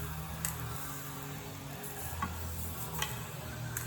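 Meat frying on a hot cooking surface in a workshop, a steady close sizzle and crackle with a few sharp pops and light scraping over a low hum.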